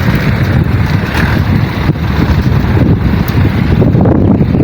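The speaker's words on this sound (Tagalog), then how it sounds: "Lakas ng hangin Lakas ng hangin dito mga kalapatids" Strong wind blows near a mountain in Sariaya, Quezon, buffeting the microphone with a loud, continuous roar that does not let up.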